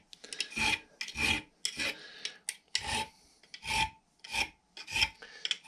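Hand file rasping rough welded edges off a tooth of a vintage Ransomes Marquis cylinder mower blade, close and loud, in about eight separate rhythmic strokes with short gaps between them.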